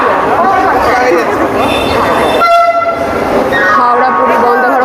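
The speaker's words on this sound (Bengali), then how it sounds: "আমাদের ট্রেন ঢুকছে" A Howrah–Puri Vande Bharat Express pulls into the station with a loud, steady rumble and several sustained horn blasts, the horn tones standing out clearly near the middle and end, with people talking underneath.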